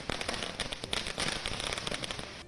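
Firecrackers and fireworks set off outside a cinema in Pune, Maharashtra, celebrating a film release: a dense, continuous stream of sharp crackling pops and bangs, loud and close, with no talk.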